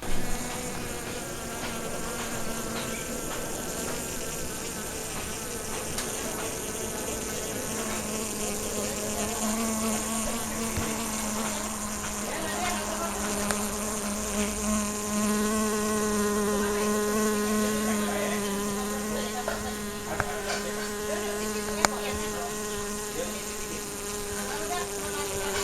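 Trigona stingless bees, also called klanceng, raised for honey, giving a steady, close, multi-toned buzz that holds for the whole stretch with faint clicks and no voices.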